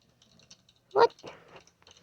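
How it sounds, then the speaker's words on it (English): Someone presses the E key on a computer keyboard while playing a video game. There is one sharp, close click, followed by softer key taps in a quiet room. "I'm clicking the E."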